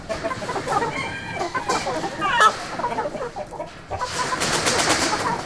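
Three-month-old chickens in a pen on a farm cluck and squawk continuously, a busy flock heard close and steady with no talk.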